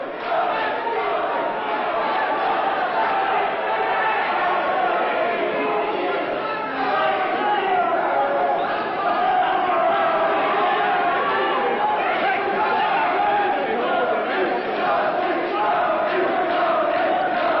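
A largely Newport-based boxing crowd cheers and roars steadily through a Welsh title fight, a dense, continuous wall of voices at even loudness with no single voice standing out.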